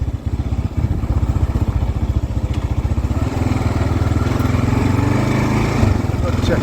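The single-cylinder engine of a KLR 650 motorcycle chugs loudly and steadily while riding a backcountry route, a close, continuous throbbing drone with a rapid pulse that builds slightly toward the end.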